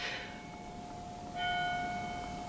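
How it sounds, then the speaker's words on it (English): Church bells ring faintly in the distance, their sustained tones hanging over a quiet background and swelling again midway through. "There's bells dinging."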